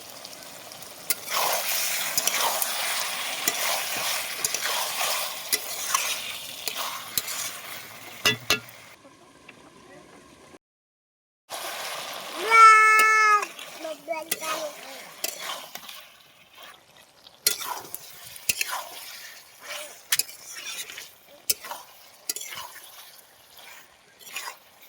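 Country chicken meat frying in a pan, a bubbling sizzle with scraping stirs and clinks of a spoon, broken by a short quiet stretch, close and without speech.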